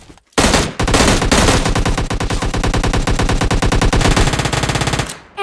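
Sustained M16 automatic fire in the mobile battle game PUBG Mobile Lite, loud and close, in rapid bursts with short breaks and a steady rattling rhythm, with no talk over it.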